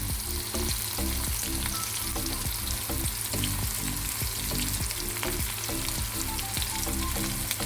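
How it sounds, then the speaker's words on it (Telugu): Bitter gourd pieces fry loudly in a pan of hot oil, a dense, unbroken sizzle with constant crackling and bubbling that stays strong and close from start to finish. "ఒకవైపు ఫ్రై అయినాక మళ్ళీ రెండో వైపుకు ఫ్రై చేసుకోవాలి"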